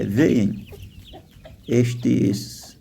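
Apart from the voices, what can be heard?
chickens clucking while feeding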